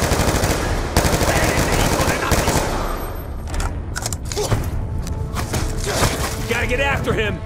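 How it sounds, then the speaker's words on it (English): Rapid bursts of automatic gunfire crackle loudly in the video game Call of Duty: Black Ops 2, followed by scattered single shots and mechanical clatter, with voices speaking over parts of it. "Gunshots came from inside."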